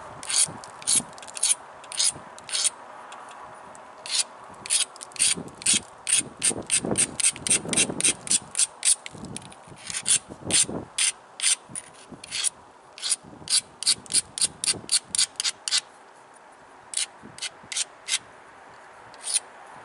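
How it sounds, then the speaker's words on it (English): Green obsidian point base being ground during flintknapping, a rapid series of rough scraping strokes that come in steady bursts, close and fairly loud, with no talking. "Let's grind this."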